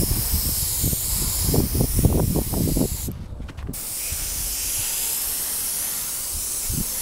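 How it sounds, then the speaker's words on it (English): An Iwata HPC airbrush sprays paint with a soft, airy hiss, first in short rapid bursts and then in a long, even continuous spray, heard close and fairly quiet. "this is the airbrush that I have, and it's an Iwata HPC"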